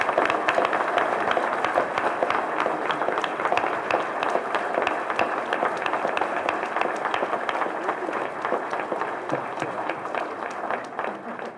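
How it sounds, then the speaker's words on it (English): Hearty audience applause fills a hall at a college presidential inauguration, a dense, steady wash of many hands clapping for over ten seconds with a murmur of crowd voices underneath. "please join me in congratulating President Clausen as the 5th president of Daemen College with heartfelt and hearty applause"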